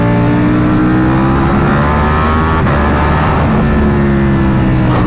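A Ducati Panigale V4 or Aprilia RSV4 superbike engine drones loudly and continuously while being ridden, holding a strong steady note with slight pitch shifts and no talking.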